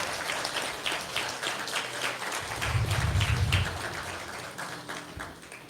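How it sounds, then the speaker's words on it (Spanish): An audience at a church talk on civic duty breaks into a short burst of applause, rising and fading over a few seconds amid room noise. "Dese un aplauso a usted mismo."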